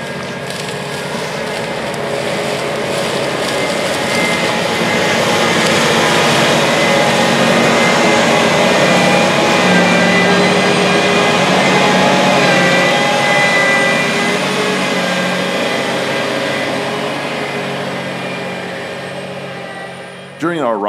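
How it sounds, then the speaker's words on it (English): A CLAAS Lexion 7500 TT tracked combine harvests corn over rolling ground in a Kentucky field, its engine and threshing making a loud, dense, continuous mechanical roar that fades slightly at the end. "Here we can see it going through some rolling ground in the field"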